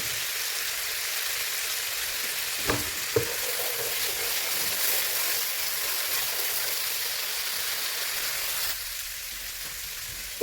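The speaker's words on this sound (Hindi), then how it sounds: "अदरक लहसुन का पेस्ट ऐड करने के बाद जो इसको कुछ देर के लिए फ्राई करेंगे" Ginger garlic paste fries in a pan for dal mash fry, giving a steady, broadband sizzle with a few brief pops and stirring clicks. The sound is continuous and close, with no talking over it.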